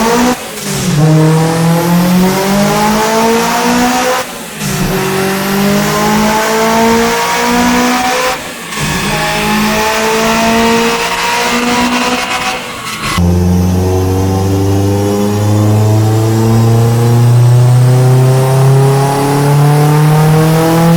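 A loud Nissan 200SX S14 with a 2.2-litre Tomei stroker four-cylinder engine revs hard and climbs in pitch through several gear changes, dropping briefly between shifts before pulling up again.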